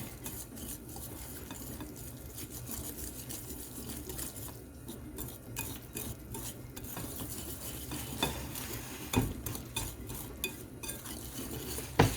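A spoon works steadily through a cheeseburger casserole mixture with pasta shells in a pot, making soft continuous scraping and clinking against the sides, a few sharper knocks near the end, and no voices.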